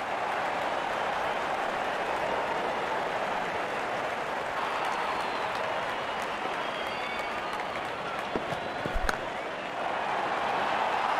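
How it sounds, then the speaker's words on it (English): A large cricket crowd applauds a batter's half-century at a Zimbabwe vs Ireland one-day international, steady broadband clapping and crowd noise sustained throughout with a few sharper isolated claps standing out. "Wonderful 50, and the crowd applauds."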